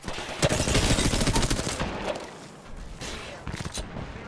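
Automatic weapon fire in the Apex Legends video game rattles in dense rapid bursts, loud at first and then thinning into scattered shots, with a voice speaking over it.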